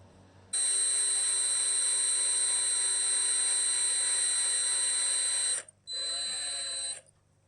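Drill boring a small hole in a guitar pickguard with a long 1/16 inch bit, a loud steady high-pitched whine for about five seconds, a brief pause, then a second short burst.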